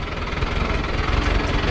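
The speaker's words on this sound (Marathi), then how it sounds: "एक ट्रॅक्टर आहे बघा" A tractor engine runs steadily on a narrow, rough village road lined with bushes, giving a continuous, moderately loud idling rumble with no talking.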